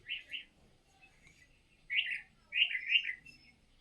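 Several bright bird chirps and short tweeting phrases in the morning outdoors, arriving in separate bursts with quiet gaps between them, fairly clear against a calm background.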